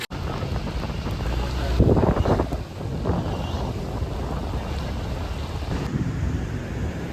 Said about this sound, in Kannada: ಹೌದು ಗಾಳಿ ಊದುತ್ತೆ